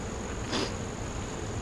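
Honeybees hum around an open hive as frames are lifted out and inspected in late August, with a steady buzz that swells briefly at one point.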